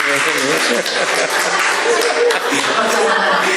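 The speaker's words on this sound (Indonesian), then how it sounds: "Tepuk tangan buat Chris" An audience claps for Chris during a talk on psychology in the Bible, a steady wash of applause with scattered chuckles and a voice speaking through it.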